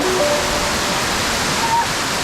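The waterfall at the Grutas de Tolantongo hot springs in Hidalgo, Mexico, pours with a loud, steady, close rushing roar that fills the whole clip without a break.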